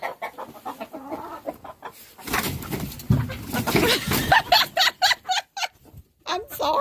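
Farm chickens cluck in short, irregular bursts nearby, with a person talking over part of the sound.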